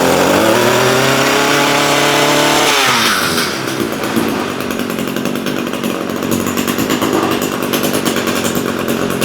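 An Echo edger's small two-stroke engine fires on one pull and roars loudly, its pitch dropping as it settles into a raspy, steady high-revving run close by.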